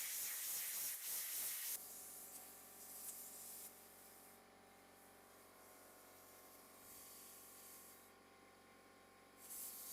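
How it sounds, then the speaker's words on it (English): An air hose blasts compressed air into the nooks of a dirty wooden tap and die set, a sharp loud hiss at first, then a softer steady rushing that swells and fades in bursts. "I'm actually going to use an air hose and blow all the nooks and crannies out."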